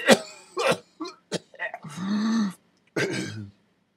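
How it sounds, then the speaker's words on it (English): Harsh coughing and throat clearing from a smoker: several short bursts, then a longer raspy cough and a final one, close and loud, with no other sound between them. "It's the only way to stop this coughing."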